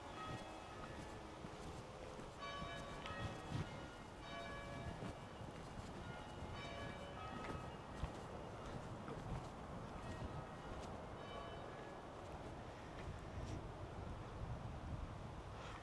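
Church bells ringing in a market town, a series of tolls with a steady, sustained rhythm and lingering tones, heard some way off over faint outdoor background noise.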